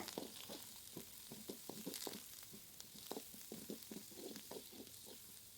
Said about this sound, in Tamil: பச்சை மிளகாய் கொஞ்சமாக கருவேப்பிலை சேர்த்துட்டு இது எல்லாத்தையும் வணக்கிக்கோங்க